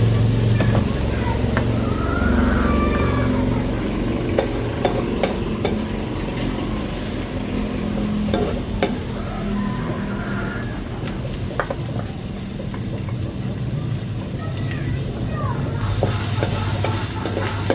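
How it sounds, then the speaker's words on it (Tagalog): Garlic sautés in a hot pan for a Filipino chicken liver and gizzard dish, giving a steady, close, crackling sizzle with scattered stirring scrapes and clicks throughout, and no talk over it. "Gigisa na po ni RJ yung pong bawang"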